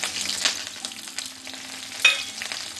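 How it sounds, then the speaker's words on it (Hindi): Onion, ginger and curry leaves drop into hot oil in a frying pan, giving a steady crackling sizzle with a sharp burst of spitting partway through and no talking. "और अब हम इसमें ऐड कर देंगे ये प्याज और अदरक को। और साथ ही साथ इसमें डाल देंगे ये कड़ी पत्ता।"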